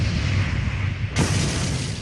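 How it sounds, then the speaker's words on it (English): A bridge packed with ammunition blows up in wartime, giving a sudden harsh blast that bursts out of a constant rushing roar, loud and close, with no voices. "It went up like a bomb."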